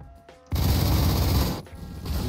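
A Saiga shotgun fitted with a choke firing in Phantom Forces, a loud sustained burst of blasts that stops briefly and then starts again, heard up close.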